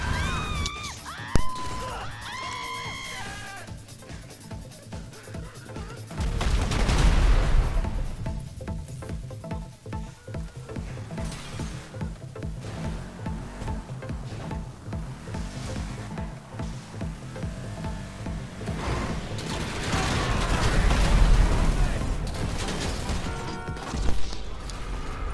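Video game combat in a PvP match: a jet's bombing run with heavy rumbling explosions, gunfire bursts and crashing impacts building and fading across the stretch, loud and chaotic, with no speech.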